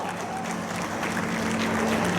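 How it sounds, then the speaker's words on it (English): An audience at an awards ceremony for women achievers applauds and cheers, steady loud clapping from a crowd filling the whole stretch, with a voice faintly audible underneath. "can we have a loud cheer for all of them?"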